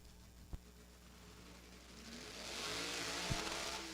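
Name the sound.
1950 Anglia drag car engine revving hard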